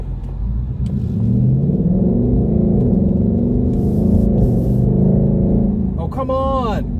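A 2020 Ford Mustang GT Premium accelerates with a loud, steady low engine rumble lasting several seconds, and a voice speaks briefly near the end over the engine noise.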